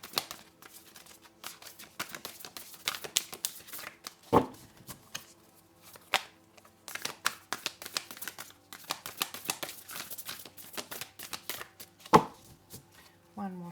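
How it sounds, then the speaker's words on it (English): Tarot cards are shuffled by hand in a steady run of crisp, rapid riffling clicks and snaps, with a few sharper slaps between, close and fairly quiet with no talking. "One more shuffle"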